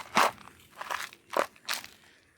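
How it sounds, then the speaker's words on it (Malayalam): Handfuls of soil are scattered over fertilizer around yam planted in a terrace garden, making four separate crunchy, gritty bursts close by with short pauses between them. "ഇട്ട് കൊടുക്കുക. നമ്മളിട്ട വളം മൊത്തം അടിയിൽ ആവത്തക്ക രീതിയിൽ മുകളിൽ മണ്ണ് വിതറുക."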